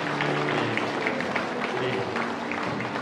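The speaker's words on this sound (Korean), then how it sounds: "우리 좀 박수로 한번 좀 같이 축하해 주시겠어요?" A church congregation at a Sunday worship service applauding together in celebration, dense steady clapping filling the room throughout, with voices mixed into the crowd noise.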